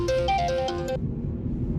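A phone ringtone plays a repeating electronic melody for about a second during a dramatic scene, then cuts off abruptly, leaving low background hum and music.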